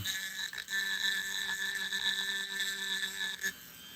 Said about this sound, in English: this is just a Dremel kind of grinder bit to get the rough stuff off